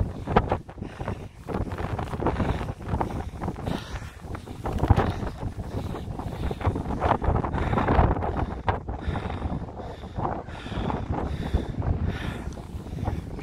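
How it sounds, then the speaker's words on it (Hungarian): Strong wind on the coast at Homborsund, Norway, buffets the microphone continuously, a rough roaring rumble with gusty fluctuations and no voices. "Itt azért fúj a szél elég rendesen."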